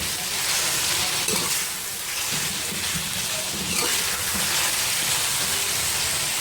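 Tomatoes for a potato sabzi fry in a pan, giving a loud, dense, unbroken sizzle like heavy rain that holds steady throughout.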